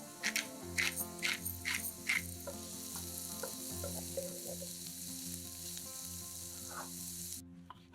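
Sliced onions and mushrooms frying in a pan until golden, with a steady close sizzle and hiss. Occasional stirring clatters sound over the frying.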